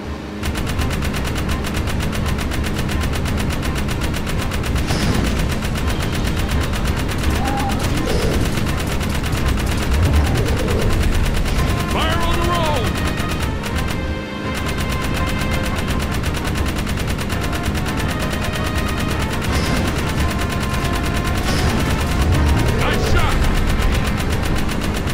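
A mounted gun in Jak 3 fires almost without a break, loud and near, as rapid bursts ring over a rumbling vehicle engine, and voices talk over it now and then.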